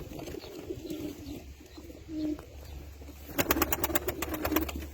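Tumbler pigeons coo softly after being let out of their box following two days of quarantine, low murmuring calls over a steady low rumble, with a burst of sharper repeated sounds near the end.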